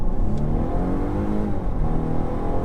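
A Volvo V60 B6, a 300 hp estate, accelerating hard on the road, its engine revving loudly and steadily with rising harmonic tones and continuous drive noise throughout.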